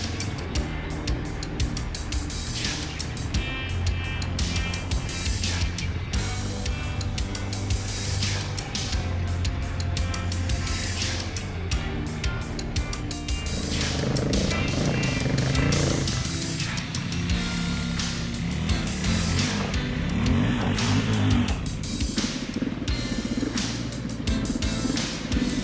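Several 450 adventure motorcycles ride off-road on rough terrain, engines revving and shifting continuously at close range, with wind and rattling gear mixed in and no talk.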